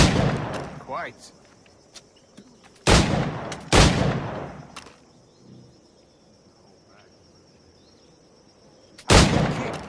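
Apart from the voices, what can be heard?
pistol gunshots in the video game Assassin's Creed 4 Black Flag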